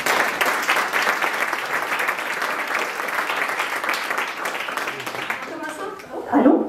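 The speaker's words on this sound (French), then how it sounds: "Je pense qu'ils méritent une belle main d'applaudissements" At a special youth council meeting, a room of attendees claps for city recreation staff, a dense, lively round of hands that holds steady, then thins out near the end as a voice starts to speak.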